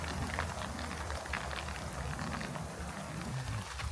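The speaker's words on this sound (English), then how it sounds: "Got a little rainstorm" Rain from a storm near Show Low, Arizona, a dense, even patter and hiss of drops on surfaces around a camping truck, faint and continuous with no talking.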